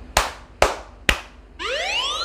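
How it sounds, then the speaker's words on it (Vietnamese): Three sharp, evenly spaced hand claps ring out, close and alone, followed at once by a rising electronic whistle-like ring from a smartphone that responds to the clapping. "giờ mình tiến hành vỗ tay nha"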